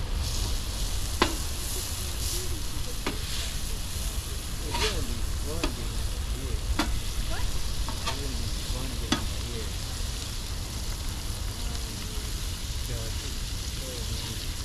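Tacos sizzle steadily on a Blackstone griddle at a Humboldt County campsite, with Kobe beef filling being stirred; a continuous loud frying hiss carries sharp scraping clicks of the spatula scattered throughout.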